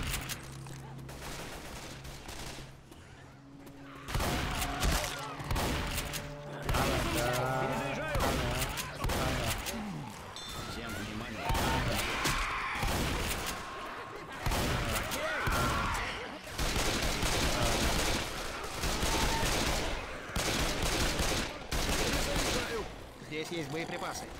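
In Left 4 Dead 2, bursts of rapid gunfire crackle and pound in repeated volleys between short pauses. Shouting voices speak over the shooting, and a quieter stretch opens the scene.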